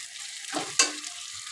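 Potatoes frying with ground chili and black pepper paste in a spice mix for a fish curry, a brief soft sizzle with one sharp stirring scrape against the pan, quiet and close.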